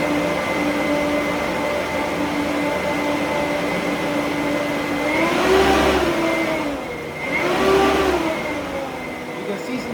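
Dual electric ducted fan motors on a large 48-volt test rig ramping up, giving a steady high whine that swells twice into louder rushing surges before easing back.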